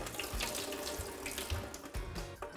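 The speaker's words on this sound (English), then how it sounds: "So we're gonna drain the water off of this." Soaking water drains off almonds in a close, steady splashing pour with small gurgles and spatters, no talking.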